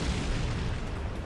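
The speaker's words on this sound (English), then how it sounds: "it could be some pretty nasty stuff, maybe 120 millimeter mortars" Heavy 120 mm mortar rounds bursting in the war game Combat Mission: Shock Force, a dense, continuous low rumble of overlapping detonations with no single sharp crack.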